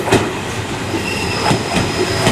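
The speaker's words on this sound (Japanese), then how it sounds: "草津の方面に行く普通電車4両編成が入ってまいりました。" Four-car local train on the JR Agatsuma Line pulling into Kanashima Station in Gunma, wheels clacking rhythmically over rail joints with a faint squeal, loud and close with no talking.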